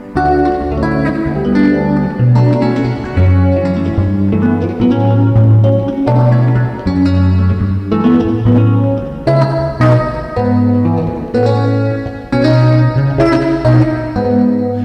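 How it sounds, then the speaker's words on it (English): An electric guitar run through a big reverb into a Tascam unit, whose breakup gives the sound a gritty edge, played as a continuous line of notes and chords with a lingering wash, loud and unbroken for about fifteen seconds. "And then you're hearing some breakup from the Tascam."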